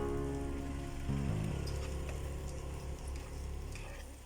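Garlic sizzling and frying in a hot pan while sizzling tofu is cooked, a steady close crackle and hiss throughout with a few brief louder pops.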